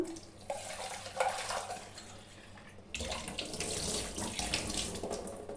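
Water runs steadily from a tap while drumsticks for sambar are rinsed under it, the splashing growing louder partway through.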